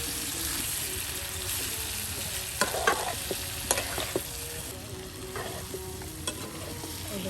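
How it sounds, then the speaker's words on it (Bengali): Chicken wings fry together in a pan at a riverside outdoor cooking spot, giving a steady broadband sizzle with occasional stirring clatters and scrapes layered over it. "এই যে দেখুন কত পাখনা একসাথে জমিয়ে রেখে আর এখন রান্না করা হচ্ছে"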